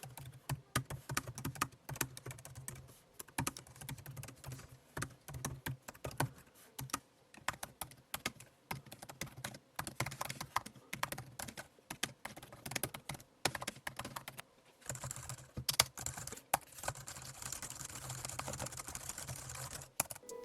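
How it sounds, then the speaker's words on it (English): Typing on a 16-inch MacBook Pro M1 Max laptop keyboard, a steady stream of soft, rapid key clicks with brief pauses, close and quiet, with no talking. "Here's a typing comparison between the three laptops featured in this video."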